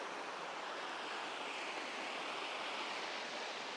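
Steady broadband rush of creek water flowing just below Lowry Falls, heard from close by as a continuous, even wash with no voices.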